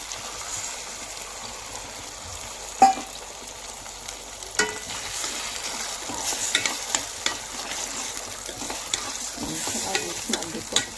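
Three eggs being stirred and fried with tomato in a pan for spicy egg bhurji, giving a steady soft sizzle with scraping spoon strokes and a few sharper knocks against the pan, close up and without talk.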